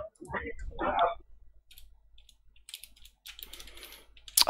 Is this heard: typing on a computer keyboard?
yes